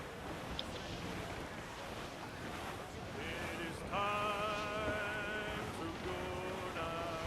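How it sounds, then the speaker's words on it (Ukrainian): A sailing ship in the Assassin's Creed IV: Black Flag game runs under a side wind, with a constant rush of wind and water and creaking tonal hull sounds rising in the second half, a voice faintly present. "у нас боковий вітер і крен вліво"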